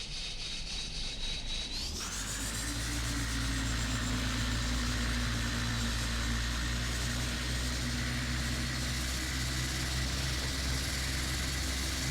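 Carenado ATR 72-500 turboprop engine in the Prepar3D flight simulator spinning up, a rising whine that settles after two seconds into a steady, loud drone with no talk.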